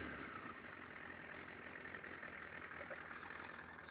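A Suzuki GSX-R 750cc sport motorcycle engine idles steadily at close range, a continuous, even running drone with no speech over it.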